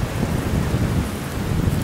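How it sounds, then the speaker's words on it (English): Heavy rain pours outdoors on a hunting trip, a loud, dense, unbroken roar with deep rumbling that stays close and constant throughout. "It's got to stop raining."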